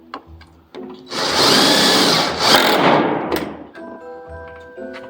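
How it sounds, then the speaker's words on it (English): A power drill runs in a long, loud burst as it drives screws up through metal plates fastened to ceiling joists during home construction, with shorter whirs and thunks before and after. "We're screwing these up about 8 inches on center"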